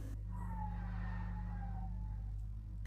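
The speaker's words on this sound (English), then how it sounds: "there's a truck pouring concrete on a roof at the house next door." A concrete truck pouring concrete onto a roof next door drones steadily with a faint whining tone rising and falling over a constant low rumble.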